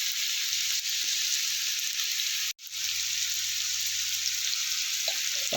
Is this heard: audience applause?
no